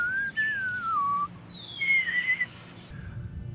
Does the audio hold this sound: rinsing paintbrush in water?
no